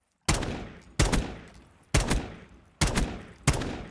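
Five loud single gunshots from a newly bought gun in a custom zombies video game, spaced roughly 0.6 to 1 second apart, each a sharp crack with a short decaying tail and no talk.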